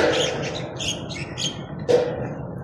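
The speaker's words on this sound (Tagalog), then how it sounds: "May ibon." A bird calls outdoors near a large tree in a garden, several short chirps and squawks in a brief series with one sharper call at the end, over a soft continuous ambient background.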